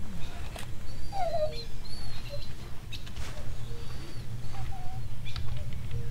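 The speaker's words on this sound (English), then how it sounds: "Can I pet a little doggy?" A little dog gives short, high whimpering yelps outdoors, scattered over several seconds above a low, rumbling street background, with faint bird chirps mixed in.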